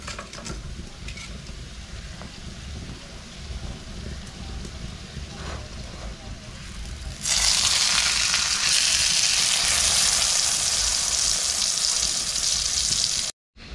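Desi ghee sizzles on a makki roti on a tawa in a village kitchen, a steady loud frying hiss that swells suddenly partway through and holds close, then cuts off.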